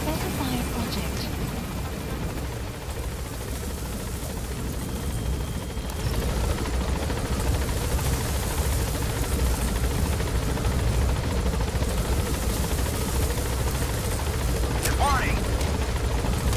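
A helicopter lifts off and climbs in the video game Metal Gear Solid V: The Phantom Pain, its steady rotor and engine roar holding loud and constant throughout, briefly overlaid by a faint radio-style voice.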